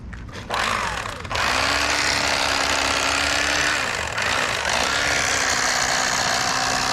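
An electric fillet knife hums steadily as it cuts through bass fillets, with a loud continuous motor whine and a brief change in pitch partway through as the blade moves along the backbone.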